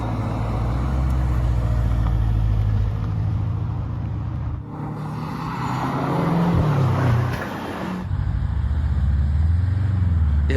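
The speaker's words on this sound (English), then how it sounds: "the car is very quiet from the footage of these test cars" A Mercedes-AMG C 63 V8 test car drives past with a fairly subdued low engine drone that swells and dips, with two abrupt cuts where the sound changes.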